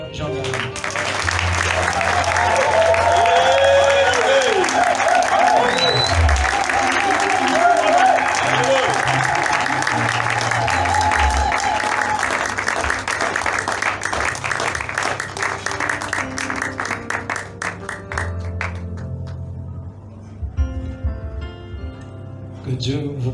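Congregation applauding and cheering to welcome a pastor at a church ordination service, a long sustained ovation with voices and music-like tones beneath, tapering into sparser clapping near the end.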